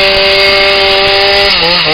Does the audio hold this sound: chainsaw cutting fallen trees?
yes